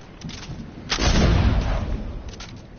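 Video-game gun blast: a single heavy, booming shot swells and rolls off over about a second, with softer thumps before and after.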